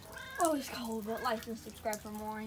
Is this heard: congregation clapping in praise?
no